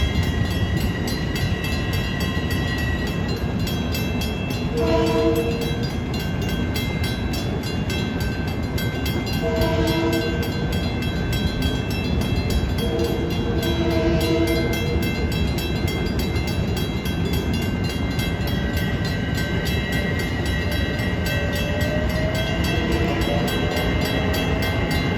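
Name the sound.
LIRR MU commuter train pulling out, blowing its horn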